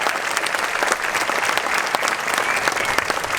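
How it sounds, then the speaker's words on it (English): Lively audience applause at an elementary school May Day celebration, dense and fairly loud clapping from a sizable crowd that stays even throughout, with individual claps popping out of the steady roar. "I want to do a really round of applause for all of our May Day decoration setup."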